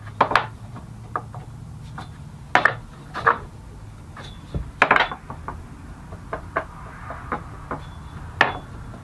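A long straight edge is set down and shifted across a black walnut tabletop, giving sparse, irregular wooden knocks and light taps, close and distinct over a low steady hum.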